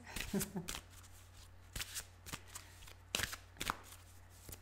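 Tarot cards shuffled close up in a quiet room, with several quick riffles and soft slaps of the deck in uneven bursts.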